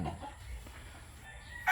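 A chicken clucks softly in a dim coop setting, a few faint, scattered calls at a distance, with a brighter squawk-like burst near the end.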